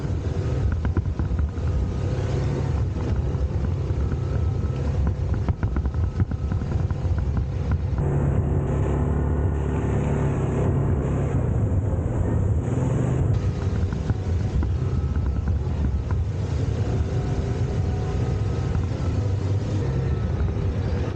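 Yamaha Grizzly 700 ATV being broken in on a rocky woodland trail, its engine a continuous low rumble under steady wind buffeting the microphone, with no talking.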